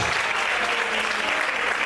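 Steady, dense applause from a church congregation during an evening worship service, a continuous bright wash of many hands clapping together at close range with no pauses.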